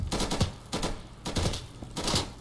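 Bursts of rapid gunfire in the video game Insurgency 2, four short clattering volleys in a steady rhythm, close and fairly loud with no talk.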